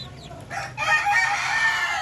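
A Darag native chicken rooster lets out a loud, drawn-out crow close by, beginning under a second and carrying on to the end over low farm background noise.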